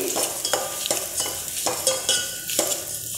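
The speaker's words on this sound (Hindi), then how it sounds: "ये बिना भुना हुआ सूजी है बस इसे मैं एक से दो मिनट के लिए इस तरीके से भून लूँगी" Raw semolina (sooji) roasting in a pan, stirred with a utensil that scrapes the pan in a regular rhythm of repeated strokes over a soft, continuous dry sizzle.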